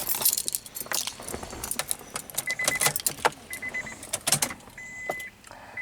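Keys to a 2000 Acura TL jingle and clink in several quick bursts, close and bright, with a few short whirring tones in between.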